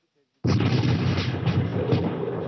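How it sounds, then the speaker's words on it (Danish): A sudden loud blast during the Turkey coup cuts in from silence and rolls on as a sustained, heavy roaring rumble. "Der var en stor eksplosion."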